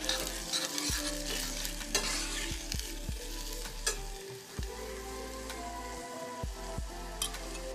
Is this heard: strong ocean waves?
no